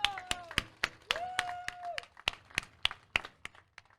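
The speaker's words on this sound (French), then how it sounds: "On les applaudit encore très fort à tous les trois." Scattered claps from an audience at a custom chopper bike show, a dozen or so sharp separate claps spaced irregularly with a voice briefly heard between them, moderately close but thin rather than a full ovation.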